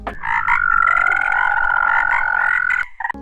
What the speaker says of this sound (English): male frogs produce loud resonant calls to attract females